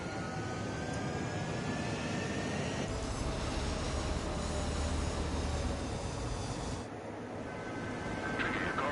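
A military jet in Ace Combat 7 roars steadily down the runway for takeoff, a loud continuous engine rumble with a high whine that shifts partway through and dips briefly before surging again.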